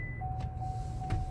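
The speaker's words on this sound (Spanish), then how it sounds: "déjeme parquearme aquí rapidito y salirme del carro" A Buick Enclave rental car being parked, a low idling engine rumble with a steady faint tone and a couple of soft clicks, close and continuous without talk.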